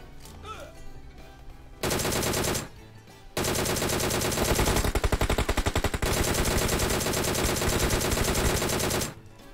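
Rapid automatic gunfire from a red dot sighted rifle in a battle royale video game, loud sustained bursts with one short pause, the final stretch rattling even faster before cutting off.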